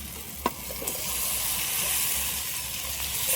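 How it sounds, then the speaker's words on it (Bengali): Fried cauliflower and potato drop into hot spiced oil in a pan, giving a soft thud followed by a steady, close sizzle and hiss that holds throughout with no talk. "এবার আমি ভেজে রাখা ফুলকপি আর আলুটা দিয়ে দেবো"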